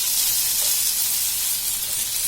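Potato snack pieces frying in melted ghee in a small tempering ladle, giving a steady, close sizzle with a constant hiss and no voices.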